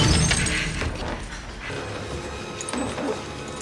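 An object smashed and shattering in a Buffy the Vampire Slayer TV episode, with a loud crash and scattering glassy fragments in a dense, noisy burst that settles into lingering debris sounds.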